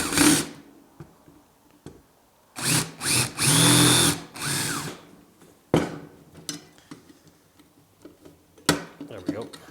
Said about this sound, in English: I can drill all these little rivets out